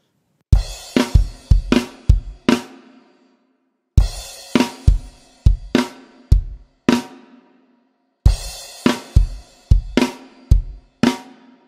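A drum kit plays the opening bar of a song three times, each pass a quick cluster of punchy kick, snare and cymbal hits with short pauses between, loud and close.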